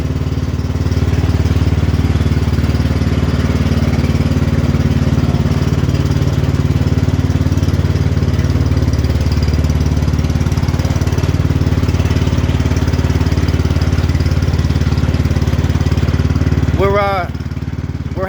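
X T1 Enduro Series garden tractor engine running steadily and loud while riding along a street, a continuous low droning hum that cuts off near the end, with faint voices over it.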